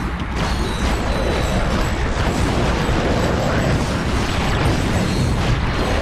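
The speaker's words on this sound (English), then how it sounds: "No, let's use the magma cannon for this." A magma cannon fires in Ratchet: Deadlocked during a timed fight against small ground enemies, producing a dense, loud, continuous blast of booms, crackles and mechanical noise with no pause.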